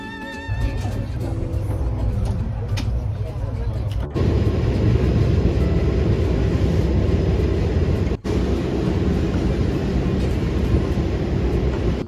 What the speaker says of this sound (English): we took the 8-hour train ride down to Anchorage